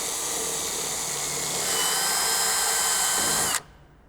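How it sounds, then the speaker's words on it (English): Power drill boring out rusted screws on an abandoned airplane, a loud steady high-pitched whine held for about three and a half seconds, rising slightly in pitch midway, then cutting off abruptly into quiet. "So I'm gonna drill all those out and then clean the threads later."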